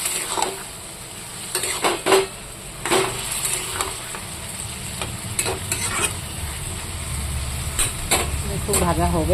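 Vegetables fry in a pan for a fish dish, sizzling steadily while a utensil repeatedly scrapes and clinks against the metal in uneven bursts, loud and close, with some background voice activity underneath.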